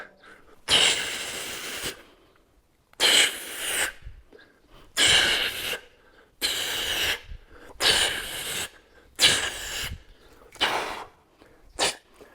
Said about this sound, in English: I breathe out, going down, breathe out, going up.